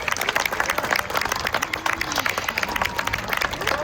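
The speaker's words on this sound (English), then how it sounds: "we're going to have to give her a nice big round of applause" A crowd at a parrot show at Lion Safari applauds steadily, dense clapping filling the space with a few cheers mixed in.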